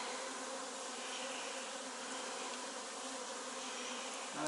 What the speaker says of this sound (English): I think this might be home to the bees.